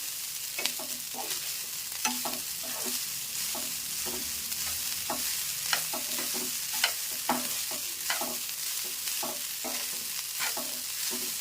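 Rice for tawa pulao is stir-fried on a hot tawa over high flame, with a continuous sizzle and rhythmic, repeated scrapes and taps of the spatula, close and fairly loud.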